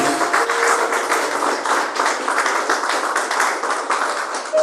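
A church congregation claps together in a steady, dense wash of applause during a worship service, sustained and fairly loud throughout with no pauses.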